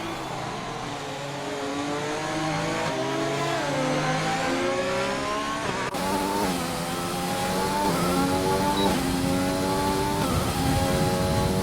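Race car engines roar continuously in the GP3 racing video game at the Canadian Grand Prix, with steady loud revving and gear changes rising and falling across the whole stretch, no voices over it.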